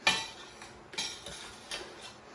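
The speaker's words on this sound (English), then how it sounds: "I'm going to gently kind of stir things together with my potato masher" A metal potato masher works through fruit, sugar and lemon juice in a pot for home canning, giving a few light clinks and scraping taps spaced irregularly, close and quiet with no talking.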